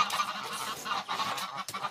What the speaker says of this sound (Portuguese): Os gansos estão aqui fazendo zoada no terreiro.